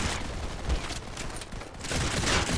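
Dense gunfire rattles through a Modern Combat 5 match, a continuous noisy burst of rapid shots with a few heavier thumps, fairly loud and with no speech over it.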